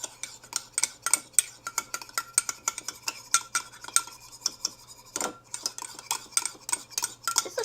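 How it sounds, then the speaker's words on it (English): A metal spoon stirs mug cake batter inside a mug for a microwave cake, giving a steady run of quick clinks and scrapes against the ceramic, close and fairly loud, with no talk. "So you just have to stir it with a spoon."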